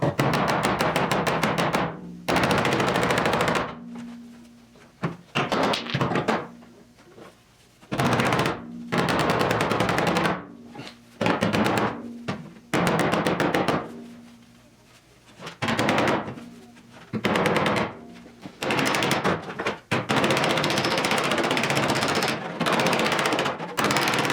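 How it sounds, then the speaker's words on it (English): A slide hammer pulls studs on a 1972 Triumph GT6 body panel, with repeated loud, sharp metallic slams in irregular clusters and short pauses between bursts. "we're gonna use the slide hammer"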